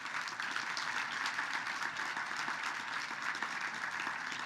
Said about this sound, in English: And once again, a round of applause for Stephen.